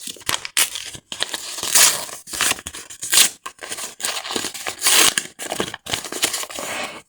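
Close, loud crinkling and tearing of paper surprise packets in irregular bursts as a packet is opened by hand.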